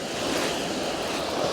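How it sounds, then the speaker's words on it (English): Steady wind roars across a Brighton beach while fishing for plaice in April, a broad continuous rush mixed with distant surf wash and gusts buffeting the microphone, loud and unbroken throughout. "That wind's hitting me much more in the face now."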